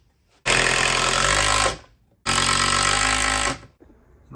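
A power driver sinks 2.5 inch screws into a wooden bench in two loud, close bursts of about a second and a half each, separated by a short pause.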